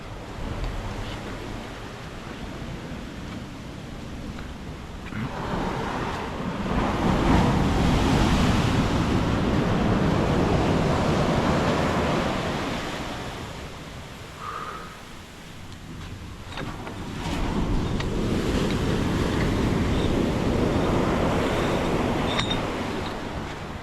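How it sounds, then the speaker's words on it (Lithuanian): Ocean waves break and wash up on the shore beside a shipwreck, a steady rushing surf that swells louder in two long surges with wind buffeting the microphone, and no voices. "Čia dabar dar reikia užtaikyti progą, kad nuslūgst banga, tada bėgi."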